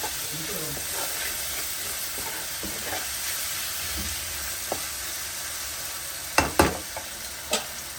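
Dried mackerel tomato curry being stirred in a hot pan, a steady soft sizzle underneath with a few sharp scraping clinks of the spoon near the end.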